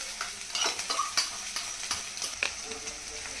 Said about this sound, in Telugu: ఇవన్నీ వేసుకోవాలి, ఫ్రై చేసుకోవాలి.